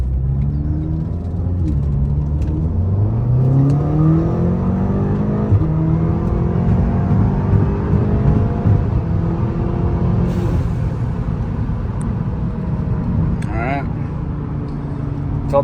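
A Volkswagen GTI or Golf R running a Cobb flex-fuel kit pulls hard through the gears, its engine note climbing steadily with rising harmonics and brief shift breaks, heard loud and close from inside the car.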